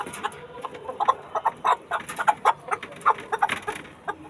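Several chickens cluck and squawk in quick, uneven bursts at close range as they are taken out of a small cage and moved to a bigger one, with no clear talking.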